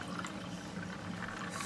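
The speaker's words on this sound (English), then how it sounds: "So I'm just gonna pour some in here" Homemade hibiscus juice (bissap) being poured into a container, a soft steady liquid trickle and splash heard close up without talk.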